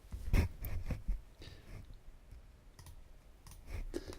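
Computer mouse clicks while operating 3D modelling software, a handful of sharp, close clicks spread irregularly through a quiet room, with faint breathing and no speech.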